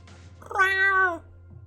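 A single clear cat meow in the video game Choices: Stories You Play, rising then falling over about half a second, close and alone against a quiet low hum.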